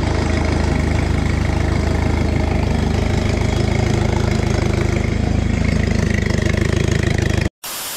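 A 1987 Jeep engine runs steadily and loud at close range, a dense continuous rumble with a fast even firing pulse and no talk, cutting out abruptly near the end before resuming briefly.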